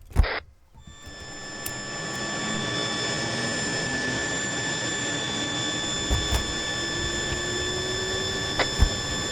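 An engine spools up in a steady, loud drone with a faint whine slowly rising in pitch, holding constant throughout with a few brief clicks near the end.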